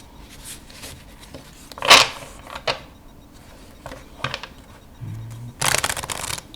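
Bicycle Pilipinas playing cards are riffle-shuffled close up, producing quiet fluttering bursts, one sharp zipping riffle and a final loud cascade, with soft handling clatter between them.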